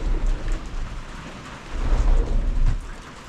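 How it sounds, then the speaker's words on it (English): Heavy rain pours steadily with a dense, close hiss, while low thunder rumbles deep underneath and swells toward the end. "So, I noticed it was coming down pretty hard. The rain, that is."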